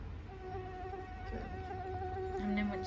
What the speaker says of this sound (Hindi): मच्छर आपको अपनी प्लेलिस्ट सुनाना शुरू कर दे.